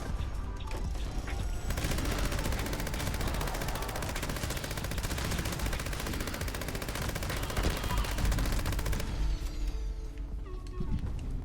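Sustained automatic machine gun fire in a video game, a dense unbroken rattle of rapid shots running loud for about nine seconds before cutting off to quieter game ambience.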